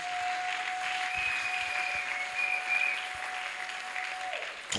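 A church congregation claps together in sustained applause, a dense even patter with a faint steady tone held above it.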